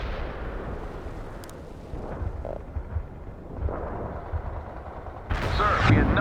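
Artillery fire in the World in Conflict strategy video game, a dense rumbling barrage of distant booms and blasts layered over a continuous roar, swelling into a louder, closer burst near the end.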